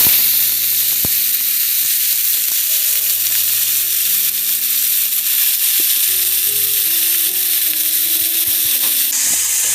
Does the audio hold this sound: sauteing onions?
yes